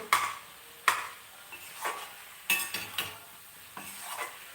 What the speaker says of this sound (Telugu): ఈ మసాలాతో కొద్దిగా వేగాలి కదా అందుకనే మూత పెట్టలేదు